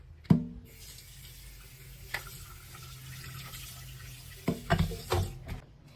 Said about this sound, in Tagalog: Then, hugasan ko siya kasi gusto ko talaga malinis siyang mabuti.